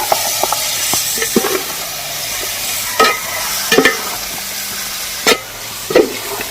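Chicken stirred into a sizzling masala in a frying pan for Kerala-style chicken chukka: a steady hiss of frying with intermittent scrapes and knocks of a spoon against the pan, close and continuous.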